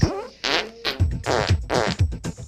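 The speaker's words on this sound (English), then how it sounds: "hookers who fart" Comedic fart sound effects in a flatulence parody, a rapid series of loud, buzzy, rasping blasts in irregular bursts with no talk.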